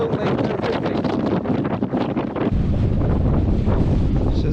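Strong wind on a Scottish Munro mountain near a cave, a loud continuous roar with heavy gusting buffeting against the microphone, intensifying midway and staying fierce to the end.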